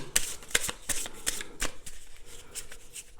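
Oracle cards being shuffled by hand, a quick run of crisp riffling slaps and flutters at close range, with no talking.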